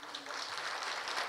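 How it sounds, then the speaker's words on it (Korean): Steady crowd applause at a public hearing on urban regeneration, a dense wash of clapping filling the whole moment at moderate volume. "소개할 때 박수로 환영해 주시면 고맙겠습니다"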